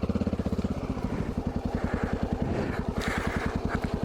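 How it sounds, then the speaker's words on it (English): A Honda XR650L dual-sport motorcycle engine running steadily, its single-cylinder thump pulsing in an even, rapid rhythm, close and loud, with a slight rise in revs partway through and no talking. "I can go highway speed on a bike that gets 52 miles to the gallon"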